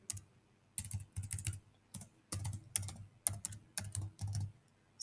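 Rapid bursts of typing on a computer keyboard as a sample name is entered in lab software, clicking keys in short clustered runs with brief pauses, close and clear with no talk.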